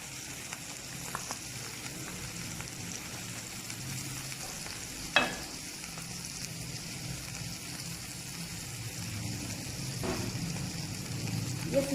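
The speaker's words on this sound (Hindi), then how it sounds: "अभी इसमें मैं ये डालने लगी हूँ अदरक, लहसुन और जो प्याज मैंने इसका मसाला बना के रखा है" Ginger, garlic and onion paste frying in ghee makes a quiet, steady sizzle with a couple of sharp clinks and a faint watery bubbling, and no voices.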